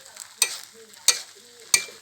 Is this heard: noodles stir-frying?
yes